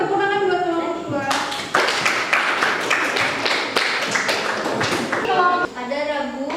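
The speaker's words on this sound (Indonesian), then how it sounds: "tepuk tangan buat kelompok" A classroom of students claps for a presenting group, a burst of quick, close clapping in the middle, with voices speaking before and after.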